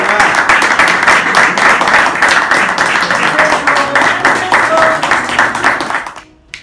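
Audience applause fills a film museum tribute for actor Eduardo Fajardo in Almería, dense and sustained for several seconds before cutting off abruptly near the end, with a few voices faintly mixed in.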